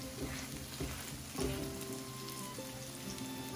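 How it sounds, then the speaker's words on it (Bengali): Spinach and hilsa fish roe pakora frying in a pan after being flipped and pressed, a soft steady sizzle with a few faint crackles and taps, quiet and without talk. "এক পাশ ভালোভাবে ভেজে এখন অপর পাশটা উল্টিয়ে একটু প্রেস করে দিচ্ছি।"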